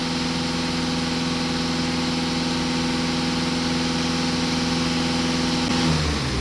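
A Volkswagen Passat B8 engine idles with a loud, steady, even hum that holds throughout, then shifts slightly at the very end, with no voices.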